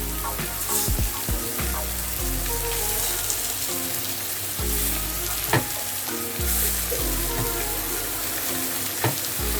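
About 1 kg of chicken frying in a pan, a loud dense sizzle broken by repeated bursts of stirring and clattering.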